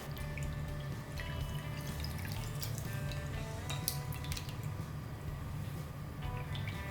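Soaked semolina milk for rava halwa strained through a filter, a steady trickle with close, quiet dripping and splashing throughout and no talk.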